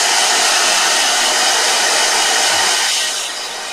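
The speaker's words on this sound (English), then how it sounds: "Blow dryer." A blow dryer runs steadily at close range, drying wet watercolor paint with a loud, even broadband rush that eases off slightly near the end.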